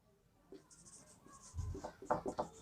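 Pen scratching across paper as an answer is written out by hand for a class 10 maths quadratic equations problem, a run of soft close strokes growing busier toward the end, with no talk.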